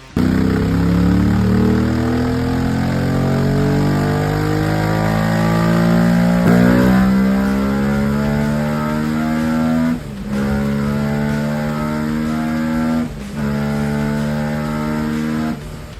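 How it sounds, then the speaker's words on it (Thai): A two-cylinder motorcycle engine revving steadily, a deep, rough rumble that rises and falls in pitch, with two brief dips near the end, loud and close. "เสียงอาจจะไม่หวานเท่า 4 สูบครับ จะออกแนวทุ้มๆดิบๆนะครับ"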